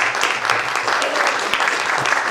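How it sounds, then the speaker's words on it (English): A round of audience applause for local election candidates at a meet-the-candidates evening, a steady wash of many hands clapping at moderate loudness with no talk over it. "let's give these candidates a great round of applause."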